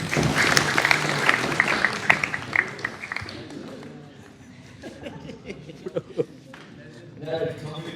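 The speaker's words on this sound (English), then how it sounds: "Can we have a round of applause for him?" A student audience at a Google Developer Student Club info session at ASU gives a short round of applause that quickly fades into scattered claps, chatter and light laughter.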